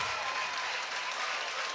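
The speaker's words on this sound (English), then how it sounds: "Crowd storms the court." A crowd of students cheers and applauds as they storm the basketball court after a girls' high school game, a dense, steady roar heard at a distance.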